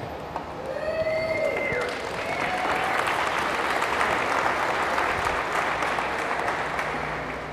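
Audience applause at a cooking talk, a dense burst of clapping that rises quickly and holds steady for several seconds before easing off, with a brief voice at the start.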